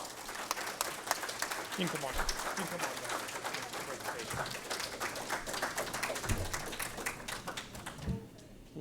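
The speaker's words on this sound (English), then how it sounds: "please join me in giving them a round of applause" Audience applause for community speakers at an Arlington civic forum, a steady patter of many hands lasting several seconds with a few deeper thumps, while a voice speaks briefly over it before it tapers off.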